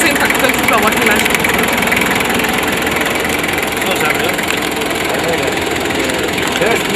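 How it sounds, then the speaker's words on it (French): An old tractor engine runs steadily in a Tunisian farm setting, a continuous loud rumbling idle with knocking texture, while people talk over it. "Et ça, c'est un tracteur qui peut avoir quel âge?"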